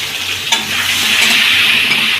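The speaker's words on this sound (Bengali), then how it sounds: "এবার কেটে রেখেছি আলুগুলো দিয়ে দিচ্ছি" Cut potatoes tumble into a hot pan for a Bengali cauliflower curry, giving a brief clatter followed by a steady, close sizzle and frying hiss with light stirring, no voices.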